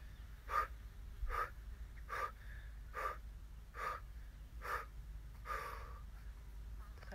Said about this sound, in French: Et vous soufflez bien